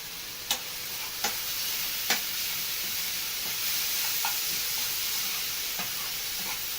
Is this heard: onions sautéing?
yes